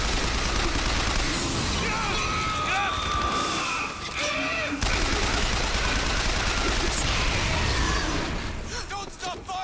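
Gunfire in the BioShock Infinite video game: dense, continuous bursts of shots and pops with a brief lull, shouting voices mixed in over the battle.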